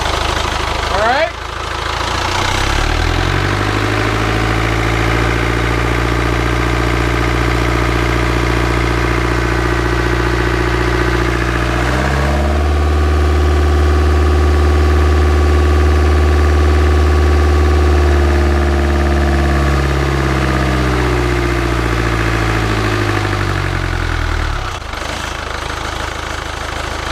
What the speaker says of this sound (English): Now that's a healthy sounding diesel.